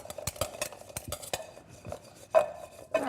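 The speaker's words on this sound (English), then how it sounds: "here I'm just going to toss them with some olive oil and salt and pepper, which will stick to them, for a little bit of flavor" Turnips tossed in a bowl with olive oil, salt and pepper, giving a run of close, irregular scraping and clinking strokes, with two louder knocks near the end.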